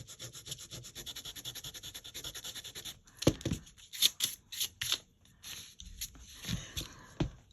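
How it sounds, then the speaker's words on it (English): An eraser rubs ink off cardstock in quick, regular back-and-forth strokes, close and soft at first, then breaking into scratchier, uneven scrubs. "It doesn't work on every cardstock. It's an eraser."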